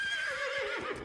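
A cartoon ghost horse gives one short, high whinny that wavers and drops in pitch, heard clearly on its own.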